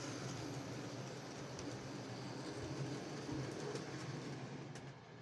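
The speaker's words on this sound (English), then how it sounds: "Meanwhile, Douglas was puffing down the line, pulling up a commuter train." A Bachmann model train runs along its track with a steady, faint whirring rumble that holds even and continuous throughout, with no talk over it.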